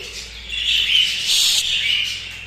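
Caged breeding birds chirp continuously in a bright, high-pitched chorus, with overlapping calls swelling and fading at moderate loudness and no talking over them.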